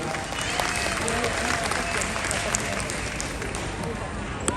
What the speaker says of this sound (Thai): ปรบมือดังๆให้กับเจ้าสาวแสนสวยของเราอีกครั้งหนึ่งครับ